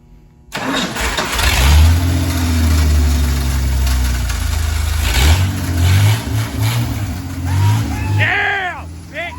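A van engine cranks and catches, then revs in loud, rising and falling bursts that run the length of the clip, with voices briefly audible near the end.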